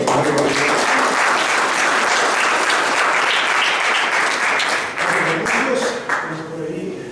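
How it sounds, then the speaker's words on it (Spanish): A church congregation applauds steadily after a prayer, the dense clapping holding for several seconds before thinning toward the end. "Aplausos."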